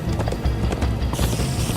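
Horses gallop in Minecraft: Story Mode, a loud, close, steady rhythm of hoofbeats pounding throughout the short stretch, with no talking.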